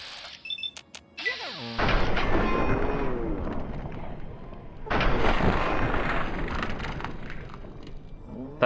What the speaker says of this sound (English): A raider throwing grenades.